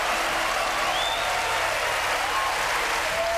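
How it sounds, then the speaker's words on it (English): Sustained applause fills an Oscars ceremony hall as an audience claps after an award announcement, dense and steady throughout with no pauses, no voices audible. "still received a standing ovation from many in the audience"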